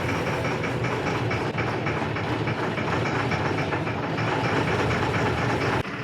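An M1078 LMTV truck's diesel engine idles with the hand throttle raised, a steady, dense, rumbling drone that runs unbroken and fairly loud throughout.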